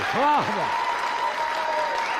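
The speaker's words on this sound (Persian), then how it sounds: "یه بار دیگه تشویقش کن" A studio audience applauds a stand-up comedian on a television comedy show. A voice rises briefly at the start, then soft, continuous clapping carries on beneath a faint steady tone.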